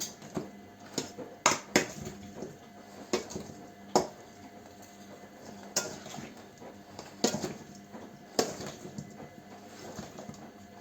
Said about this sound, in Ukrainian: Це все перемішуємо.